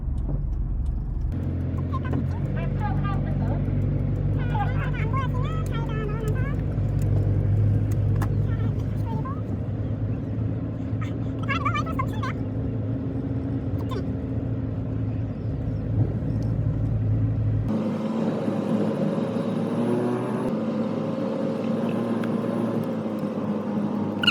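Car driving on the road during a driving lesson, a steady low engine and road rumble running throughout, with a clear shift in tone near the end as the car changes speed.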